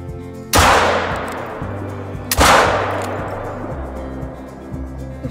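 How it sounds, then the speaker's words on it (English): Two hunting rifle shots ring out in theHunter Call of the Wild video game, each a sharp loud crack with a long echoing tail, about two seconds apart over low game ambience. "The first shot was a little low, I think. Did we get him on the second shot?"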